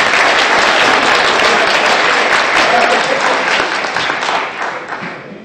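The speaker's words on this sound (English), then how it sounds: "One more round of applause for all of our four candidates." An audience at the 2015 Fairest of the Fair pageant applauds the four candidates: loud, dense, continuous clapping from a sizable crowd that tapers off in the final second.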